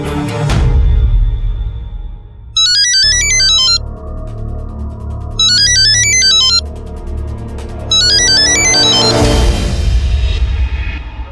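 A loud electronic phone ringtone plays three times in repeated melodic bursts over a low rumbling background, near and clear.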